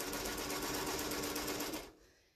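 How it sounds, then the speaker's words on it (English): A sewing machine top stitching a cork and Essex linen tote bag runs in one fast, continuous whirring burst close by, then stops abruptly, leaving a quiet tail. "We're just going to top stitch it down so that it stays nice."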